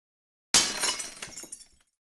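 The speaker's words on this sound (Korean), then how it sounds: "요강을 던지거나 그릇을 깨뜨리면서 저항했습니다" Dishes and crockery smashing in a room, a sharp loud crash of breaking glassy pieces followed by scattered clinking shards settling for about a second before silence.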